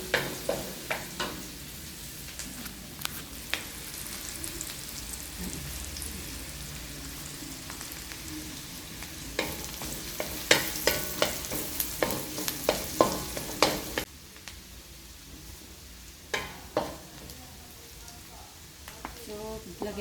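Ground beef fries in a pan with onion and garlic for creamy spaghetti, a steady sizzle under frequent spatula scrapes and taps, close and fairly loud, with a voice speaking at times over the cooking.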